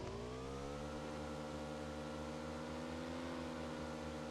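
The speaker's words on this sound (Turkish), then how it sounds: "Motorun sesi çok geliyor olabilir kusura bakmayın." A steady, droning boat engine hum in PUBG Mobile with layered tones that slowly shift in pitch, continuous and moderately loud throughout.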